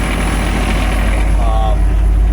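A Kenworth T880 refrigerated box truck idles close by with its refrigeration unit running, giving a steady, loud engine drone with no breaks.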